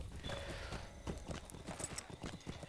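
A horse's hooves clip-clop in the Lord of the Rings Online video game, a quick, fairly faint run of hoofbeats, alone without talk.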